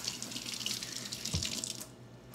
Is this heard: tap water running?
yes